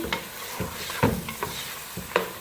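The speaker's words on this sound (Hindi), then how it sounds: "मीडियम फ्लेम पे चिकन को हमने प्याज लहसुन अदरक के पेस्ट में फ्राई कर लिया" Steady sizzling of chicken frying over a medium flame in onion, garlic and ginger paste in a pan, with a few sharp scraping stirs of a spatula at irregular intervals.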